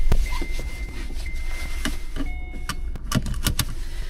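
Car keys jangling inside a vehicle, with a series of sharp metallic clinks clustered near the end over a steady cabin hum.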